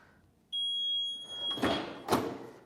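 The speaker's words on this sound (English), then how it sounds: "So this will beep when it's finished." A heat transfer press sounds a steady electronic beep tone that starts abruptly and holds for about a second, followed by two loud clunks as the press is opened.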